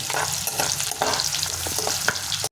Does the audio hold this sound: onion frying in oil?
yes